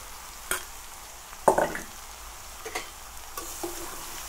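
A ridge gourd and potato curry is stirred in a hot pan, with a soft continuous sizzle under a few distinct scraping strokes of the spoon, close and moderately quiet with no voices.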